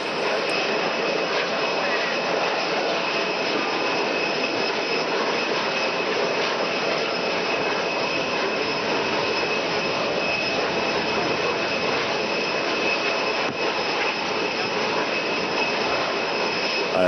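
Jet engines drone steadily beside an airliner at the arrival of a boarding stairway, where the Pope is greeted by the captain; a loud, unbroken whine and roar fills the scene with no pauses.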